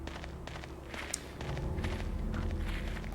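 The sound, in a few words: footsteps in the video game Silent Hill 2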